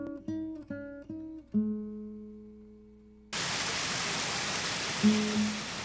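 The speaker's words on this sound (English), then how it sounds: "Man-made waterfalls supply a constant stream of water, an essential component in the gold extraction process." Man-made waterfall at a gold mine, a steady broadband rush of falling water that starts abruptly partway through and continues loud and constant to the end, after a stretch of tonal music.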